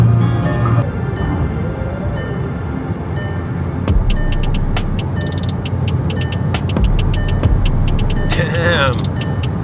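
A car driving fast on an open road at over 120, with steady engine and road rumble, beeps, brief clicks and a person talking over it.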